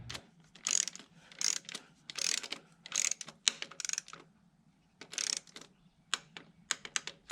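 An inch-pound torque wrench ratchets down the valve cover bolts on a 2.4L Dodge Dart, close and crisp, with repeated bursts of rapid clicking separated by short pauses and no talk.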